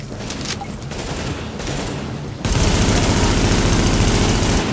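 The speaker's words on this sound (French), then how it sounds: "Ouais, vas-y, tire à côté, Kevin." Automatic rifle fire in the video game Tom Clancy's The Division, a steady loud burst of rapid shots that jumps to a denser, louder barrage midway through, with no talk over it.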